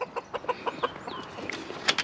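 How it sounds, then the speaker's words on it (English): Backyard chickens clucking excitedly in quick, rhythmic bursts, several birds close by, a run of evenly spaced clucks giving way to higher squawks toward the end. "the chickens are super excited"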